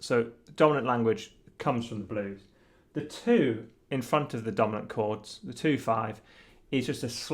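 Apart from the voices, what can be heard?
No everyday noises stand out.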